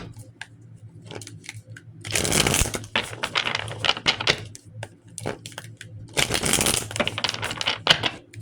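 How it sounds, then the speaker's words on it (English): Tarot cards are shuffled in two brisk riffling bursts, a crisp flutter of stiff cards close by, with light handling clicks between them. "I'm gonna shuffle."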